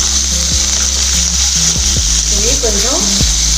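Sliced onions and green chillies fry loudly in a pan, a dense, close sizzling hiss that runs unbroken throughout, with faint tonal sounds in the background.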